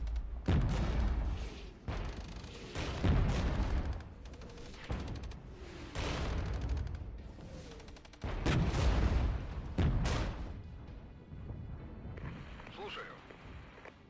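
Tank cannon fire aimed at T-64 tanks in the strategy game Regiments, heavy booming shots repeating every second or two at close quarters, loud and punchy, with battle rumble between them and someone talking over them.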